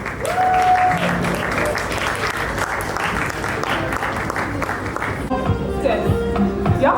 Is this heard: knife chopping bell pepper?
no